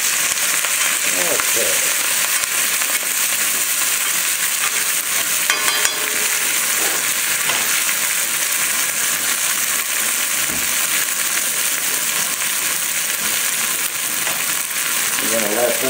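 Wet dandelion greens fry in a hot pan with a loud, steady sizzle that lasts throughout, broken by occasional stirring clatter, and a voice speaks once briefly.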